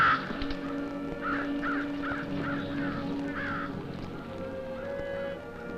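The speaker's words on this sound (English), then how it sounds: "Fish crows by the hundreds." Hundreds of fish crows caw from a roost in the wild, harsh nasal calls repeating in a rhythmic series over a continuous low background din, moderately distant.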